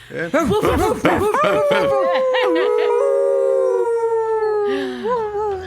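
Several people imitate dogs with drawn-out howls and yips, voices rising and gliding together close to the microphone, with laughter breaking in near the end.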